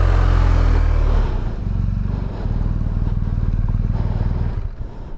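A motorcycle putters through slow, tight weaving maneuvers on a racetrack during precision riding practice, its low engine thumping steadily and close after a loud opening roar, with no talk.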